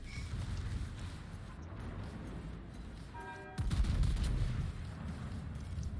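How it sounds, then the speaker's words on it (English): Shell salvos from a Riga battleship firing armor-piercing rounds in World of Warships, a continuous low rumble with a heavier booming burst midway, busy game-battle ambience without speech. "Look at this Riga firing AP at me."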